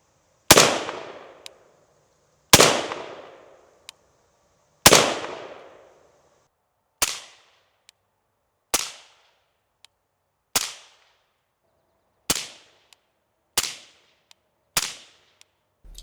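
Nine suppressed rifle shots from a 5.56 rifle fitted with a Wolfpack Armory Disruptor 556 silencer, each a sharp crack with a short decaying tail, fired slowly at irregular intervals with no talking.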